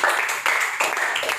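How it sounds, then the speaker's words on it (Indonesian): A church congregation claps along in a short burst, quick rhythmic hand claps in a few pulses with some voices mixed in. "Tepuk tangan dong, jangan ragu-ragu untuk tepuk tangan buat Tuhan."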